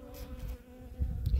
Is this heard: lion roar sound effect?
no